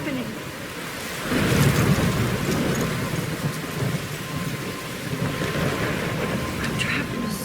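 Thunderstorm in the video game Life is Strange, with steady heavy rain and a deep rolling rumble of thunder that swells after the first second and keeps up throughout, fairly close.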